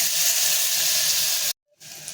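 Finely chopped garlic and onion sauté in hot oil for rajma masala, giving a steady loud sizzle that cuts out briefly near the end and then resumes more softly.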